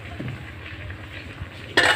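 A cooking pot of chickpeas, simmered about twenty minutes, gives a single sharp metallic clank near the end of a short, quiet stretch of low kitchen noise, its lid knocking as it is lifted off.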